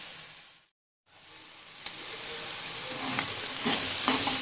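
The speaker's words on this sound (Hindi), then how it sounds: "एक दो मिनट हो चुके हैं इसे भूनते हुए" Black chickpea masala sizzles and fries steadily in a pan, a close, even hiss that briefly cuts out and then returns, with faint stirring scrapes and soft clicks.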